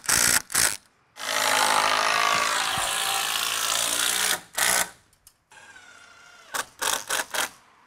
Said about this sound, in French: Je vais venir visser mon madrier et c'est cette vis qui va faire